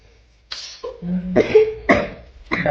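A six-year-old girl, ill for several days, coughs hard in a quick series of about four harsh, close bursts with a rough throat-clearing quality and brief pauses between them.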